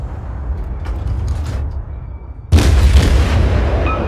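Naval guns fire in the World of Warships game, a sudden loud, booming salvo crashing in over a low engine rumble and sustaining as a roaring wash of noise.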